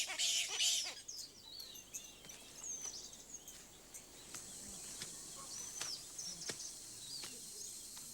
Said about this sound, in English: There is a weaver bird colony in a tree close to the chief's hut.